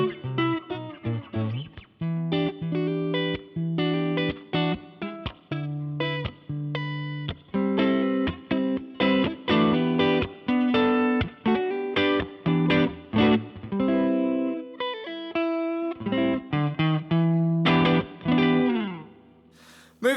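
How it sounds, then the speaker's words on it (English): An electric guitar plays chords and riffs through a gritty, overdriven vintage amp simulation, loud and continuous with brief pauses between phrases. "That's kind of cool, and a bit of a more crunch sound."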